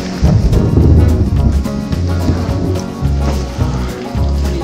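Thunder rumbles through a heavy rainstorm during a kayaking trip, a loud, continuous low roar with steady rain noise throughout and no clear separate claps.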